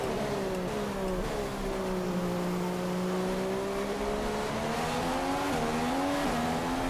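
An F1 race car in the F1 2015 game at Montreal, Canada accelerates with a loud, continuous high engine whine that rises in pitch through gear changes, heard alone without talk.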